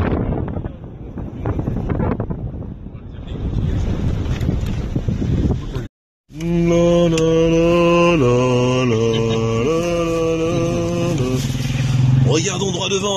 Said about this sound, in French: Ah non, c'est une moto en fait.